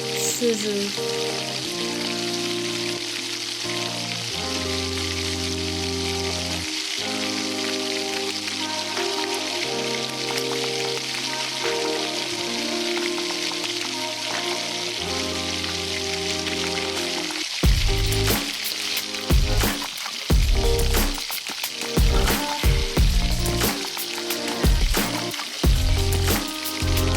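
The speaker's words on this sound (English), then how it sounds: "Time for frying punugulu." Sabudana punugulu, tapioca-pearl fritters, deep-fry in hot oil. Soft music plays through the first part, then a steady close crackling sizzle with sharp popping bursts takes over in the last stretch.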